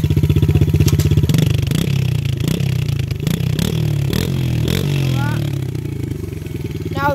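Loud 110cc Yamaha dirt bike engine revving hard through its exhaust on a Tennessee hill-climb trail, repeated throttle blips rising and falling over a steady buzzing idle, close and continuous.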